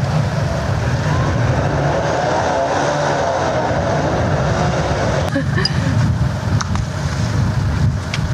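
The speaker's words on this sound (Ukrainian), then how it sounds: "До потопельника поспішає катер на повітряній подушці." A hovercraft races across ice toward someone who has fallen through during a rescue, its engine and fan roaring in a steady, loud, broadband rush with wind noise, while a voice speaks over it.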